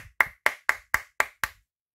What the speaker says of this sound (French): avec quelques applaudissements d'avance